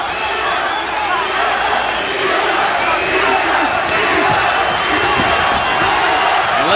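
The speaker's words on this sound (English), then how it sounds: "let's see how he responds to the swelling chants of the crowd" A boxing crowd at a championship fight, Juan Diaz versus Lakva Sim, a dense roaring wall of voices chanting and cheering continuously, loud and close, with a commentator's voice faintly in the mix.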